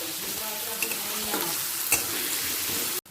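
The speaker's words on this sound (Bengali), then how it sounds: "আদা রসুন কাঁচা লঙ্কা মিশিয়ে নিচ্ছি" A ginger, garlic and green chili paste is stirred in a hot pan, a steady scraping swish over continuous sizzling frying, with a few sharper clinks of the spoon against the pan; nobody speaks.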